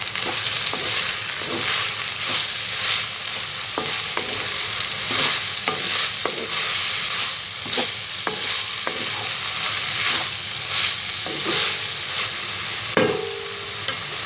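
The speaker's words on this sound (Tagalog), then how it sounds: "Haluin natin." Spaghetti bolognese is stirred in a sizzling pan: continuous frying hiss with repeated scraping spoon strokes and occasional clacks against the pan, close and loud, with no voices.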